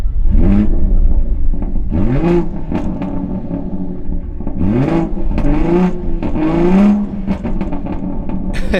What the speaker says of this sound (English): Those are factory tuned burbles that you can't really eliminate for whatever reason.